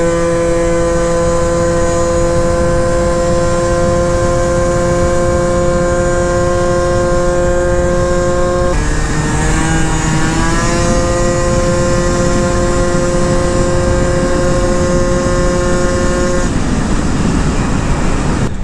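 A Honda Elite scooter with upgraded CVT drives along, its engine giving a loud steady whining drone with strong harmonic tones that shift in pitch as speed changes, plus constant wind rush, heard up close.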